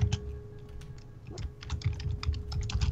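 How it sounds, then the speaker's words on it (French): Rapid clattering of a computer keyboard during an online session of Rust, irregular bursts of clicky keystrokes over a low constant hum, fairly close and loud, no one speaking. "on entend tout le clavier d'Arnaud"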